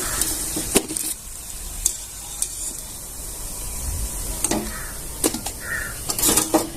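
Sweet jaggery fritters (gulgule) frying in hot oil, a steady close sizzling hiss broken by sharp clatters and scrapes as they are lifted out.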